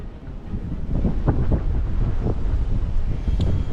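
Strong wind buffets the microphone outdoors near a beaver lodge during winter trapping in Minnesota, a steady loud low rumble with gusting swells throughout and no voices.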